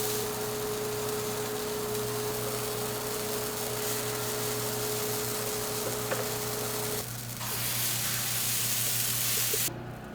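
Pancakes cooking on a skillet, giving a soft, even sizzle that runs continuously at low level over a steady electrical hum, with a brief dip partway through and no talk.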